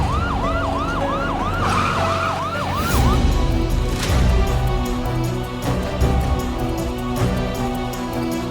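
An ambulance siren wails in a rapid rising-and-falling pattern for a few seconds, then gives way to busy road traffic and engine noise.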